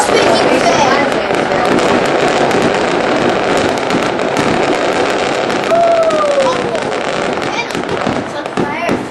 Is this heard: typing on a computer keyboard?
no